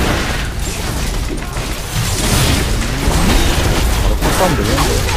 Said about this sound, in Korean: 바로 폭탄 들리는데